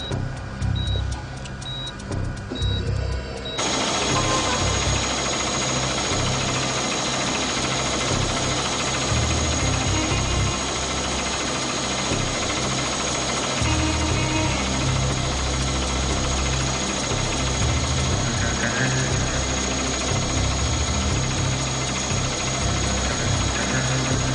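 A generator engine runs loud and close with a steady, rough, knocking idle that kicks in after a few seconds and drones on continuously, no voices.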